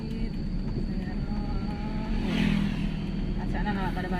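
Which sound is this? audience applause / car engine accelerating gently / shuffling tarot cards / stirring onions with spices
car engine accelerating gently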